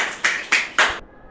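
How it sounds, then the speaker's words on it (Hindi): Students in a classroom give three loud, distinct hand claps in an evenly spaced rhythm, close and sharp, ending abruptly into quiet. "जोरदार ताली लगाइए"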